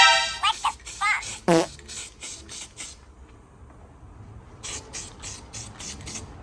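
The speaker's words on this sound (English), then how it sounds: "If you guys are wondering why am I spray painting my bed panel, it is actually guide." Short bursts of a spray can hissing as guide coat is applied to a truck bed panel during body work, several quick passes near and fairly loud, with a quieter gap before a final run of bursts.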